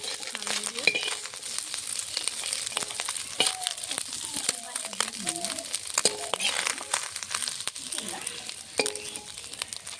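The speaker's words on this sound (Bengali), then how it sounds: "বাকি মাছগুলো এভাবে ভেজে নেব" Small fish frying in oil in a pan, a steady close crackle and sizzle running throughout, broken by scraping and stirring against the pan, with a voice talking over it.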